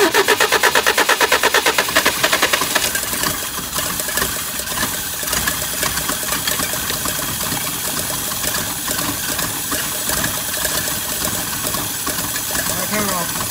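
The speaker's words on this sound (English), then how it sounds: "Cold start, first time about 4 years." Engine of a 1978 Toyota Wolverine 4x4 running after a cold start following years unused, opening with rapid even pulses that settle into a steady, loud, rough idle throughout.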